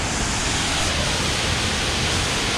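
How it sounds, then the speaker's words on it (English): A powerful waterfall near Guadalupe, Colombia, in a lush, drenched green setting, roars as a steady, loud, unbroken rush that fills the whole clip. "But look at the power of that waterfall."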